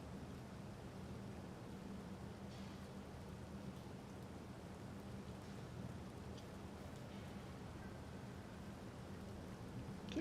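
Steady rain hiss with a low thunderstorm rumble from a Space Engineers game world, faint and even throughout with no break, a few soft drips and crackles on top, no voices.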